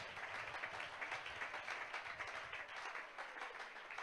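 A church congregation clapping hands for God, a dense, even burst of applause heard from some distance and fairly faint.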